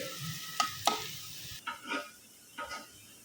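Dried fish (shutki) frying and being stirred in a pan, with a few sharp scrapes of the utensil and soft bursts of sizzle at irregular intervals, fairly quiet and close.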